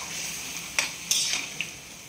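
Potatoes with a little water are stirred in a pan. Three sharp spoon clinks against the metal ring out over a faint, steady background, close by.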